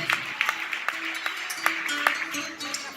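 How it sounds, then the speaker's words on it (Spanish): Applause from a church congregation during a service, a steady wash of many hands with a few sharper claps standing out, moderately loud, with a held tone beneath it. "Dale un fuerte aplauso a la persona de Jesús."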